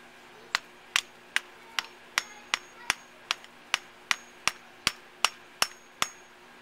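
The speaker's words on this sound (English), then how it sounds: "And hammer on top of the screwdriver." A hammer strikes a screwdriver set on dry ice in a steady series of about a dozen sharp, ringing taps, evenly spaced and close up, with nothing else in between.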